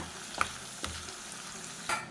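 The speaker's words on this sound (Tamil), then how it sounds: "போட்டு நல்லா அது ஒரு நிமிஷம் நல்லா வதக்கிடுங்க" A quiet sizzle of tomatoes sautéing in a pan, broken by three sharp spatula scrapes spaced unevenly apart.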